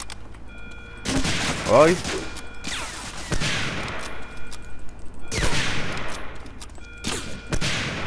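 Gunfire in the video game Medal of Honor: Allied Assault rings out as several loud, separate shots spread over the stretch, each with a short decaying tail, and a man briefly exclaims once.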